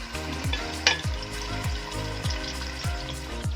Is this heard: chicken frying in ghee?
yes